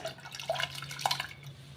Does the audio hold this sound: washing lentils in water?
yes